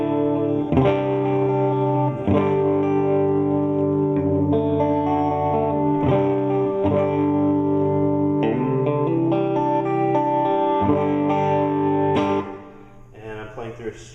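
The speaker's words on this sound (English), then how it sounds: "Through a Strat, and you can hear it's breaking up" Electric guitar chords from a Stratocaster ring out through a modded Fender Deluxe 5E3 tube amplifier with mild overdrive breakup, several strummed chords letting sustain before a softer picked ending.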